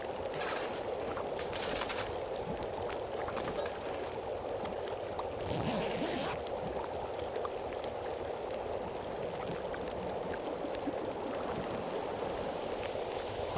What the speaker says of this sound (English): Sounds blizzardy.